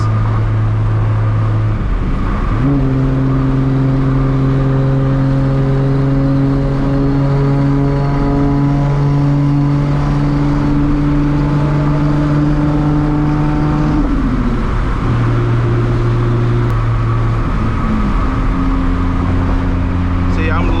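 A Toyota MK4 Supra with a 1000-plus horsepower engine cruising at about 2300 RPM, a steady low drone with a slight gear change partway through, heard from inside the car with road noise throughout.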